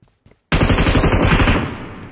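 Sustained burst of machine-gun fire in PUBG Mobile, loud and close, starting abruptly after a few faint clicks and running steadily for well over a second before tailing off.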